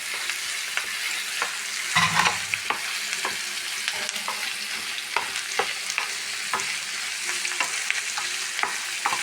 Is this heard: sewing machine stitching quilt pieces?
no